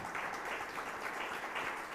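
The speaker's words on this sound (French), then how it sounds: "Normalement, on doit applaudir la Vierge Marie pour cela" A steady wash of applause from an audience at a religious talk, many hands clapping continuously at a fairly even level throughout.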